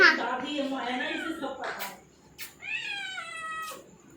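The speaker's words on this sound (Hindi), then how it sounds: "तू बिल्ली है, बता कैसी बिल्ली है?" A hungry cat meows close by, several drawn-out, rising and falling cries separated by short pauses, with brief quiet moments between them.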